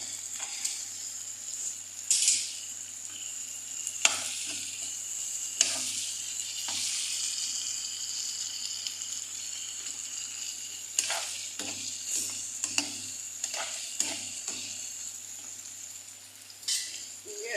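Okra stir-frying in a hot pan, a steady loud sizzle with intermittent scraping and clatter from stirring, close up and continuous, no talking.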